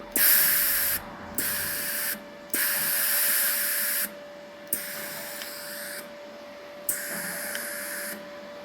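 Shielding gas hisses from the nozzle of a Dnipro-M MIG welder while the regulator is adjusted, a close steady spray sound that starts and stops in several bursts, with no talk.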